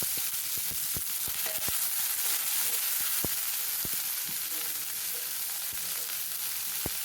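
Chopped onion with salt sautéing in a pan for masala dosa filling, a steady close sizzle with scattered sharp pops and crackles throughout.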